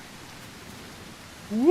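Steady rain in a video game hisses softly as an even wash of noise, then a voice cuts in at the end.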